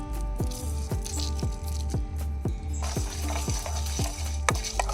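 Half a tablespoon of cumin seeds frying in a pan for ghee rice, a steady close sizzle broken by regular scraping stir strokes about twice a second, with no talking.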